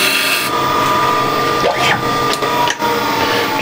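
A skew chisel cuts into a decorated wooden box, giving a close, continuous scraping hiss broken by a few brief sharper catches as the edge bites.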